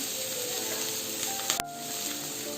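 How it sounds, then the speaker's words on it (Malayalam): Garlic, capsicum and carrot sizzle steadily in a hot pan, a bright continuous hiss broken by one brief metallic clack of utensil on pan. "എന്നിട്ട് നന്നായിട്ട് നമ്മൾ വഴറ്റിയെടുക്കാം."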